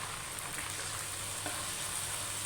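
Tomatoes and green chillies frying in a pan make a continuous hiss and sizzle, close and even, with a light stirring scrape partway through.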